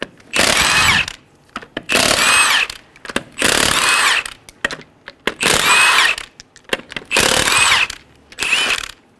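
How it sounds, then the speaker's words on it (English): Power tool with a 19mm socket removing five lug nuts from a 2003-2008 Honda Pilot front wheel, with loud repeated bursts of whirring, each about a second long and separated by short gaps and clicks. "Using a 19mm socket, remove the 5 lug nuts."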